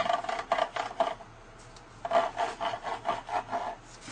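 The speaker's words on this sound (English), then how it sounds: "And this is a Zooky bar, which should be hardwood." A hardwood Zooky bar is rubbed against a Zooky box (Stradizooky), giving rhythmic raspy scraping strokes in two bursts separated by a brief pause, close and fairly loud.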